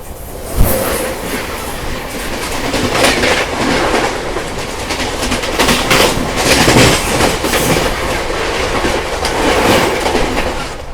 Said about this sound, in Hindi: सामने से आ गई हमारी Shri Shakti AC superfast express